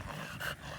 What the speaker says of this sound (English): this is my blue tri-French bulldog.